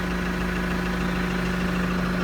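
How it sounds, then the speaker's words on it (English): A Case Farmall 55C tractor engine idling steadily nearby, a constant low droning hum with a slight mechanical buzz. "The revs lower slightly when you get off the seat and get off the tractor"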